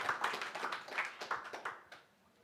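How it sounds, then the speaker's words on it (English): A sparse round of applause at a stage session of a tech conference, a handful of quick claps close by that thin out and stop within two seconds. "farewell him with a round of applause."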